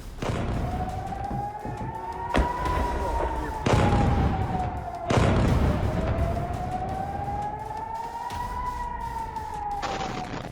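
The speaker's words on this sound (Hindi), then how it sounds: "रात लगातार 11 घंटे तक गूंजता रहा मौत का सायरन।" An air raid siren wails during an attack on Kyiv, its steady tone slowly rising and falling, loud and sustained, with heavy thuds and bangs breaking in at intervals.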